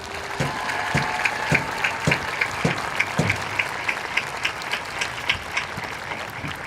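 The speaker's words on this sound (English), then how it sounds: "I would like to ask this assembly to give a huge round of applause for Assistant Principal Marina Heights" A graduation ceremony audience applauds in a large hall, a steady wash of clapping with a few louder individual claps standing out, fairly distant and continuing throughout without talk.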